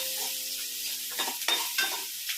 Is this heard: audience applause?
no